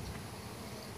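Honey bees swarm around an exposed hive tucked beneath a shed in Harlingen, Texas, producing a steady, dense buzzing drone that holds without a break for the whole second, with no voices.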